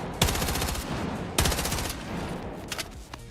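Automatic gunfire from the Battlefield 6 video game: two loud, sharp bursts of rapid shots, each followed by a short trail of fire, then a few scattered quieter shots, all close and with no talking.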